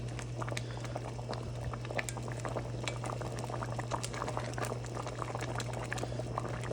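Homemade gravy boiling in a pot on high heat, a dense continuous bubbling and popping with occasional liquid stirring sounds, close and steady throughout, with a low hum underneath and no speech.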